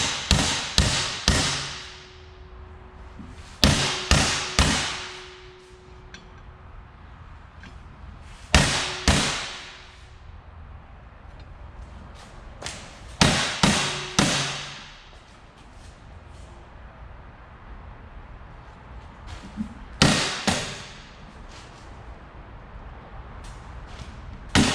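A hammer strikes metal on a Kenworth W900 truck project in sharp bursts of two or three ringing blows, the groups separated by pauses, loud and close with a faint metallic hum between.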